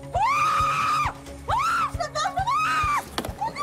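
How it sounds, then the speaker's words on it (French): Recorded screams of terror from a Fort Boyard team member, played back in a game-show quiz: three long, loud, high wailing screams with pauses between them, and a steady low drumbeat pulsing underneath. "À quel membre de votre équipe appartiennent ces jolis cris de terreur?"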